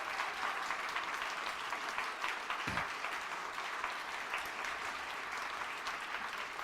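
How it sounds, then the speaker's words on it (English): Audience applause in a large gathering, steady dense clapping throughout at a moderate distance, with one brief low thump partway through and no talking. "Let's give them a big round of applause."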